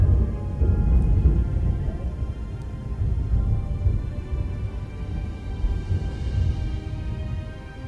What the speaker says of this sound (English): it's like a super storm just started up and it's raining and pouring and thundering, all the usual.